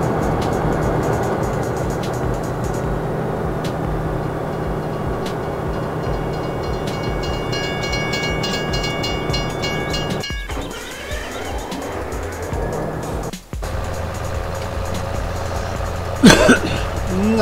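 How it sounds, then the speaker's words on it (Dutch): Trains running in a farming video game, a continuous mechanical rumble with a high whine that sweeps and fades, broken by two sharp dropouts and a brief clatter near the end. "Nou, de treinen rijden weer rustig."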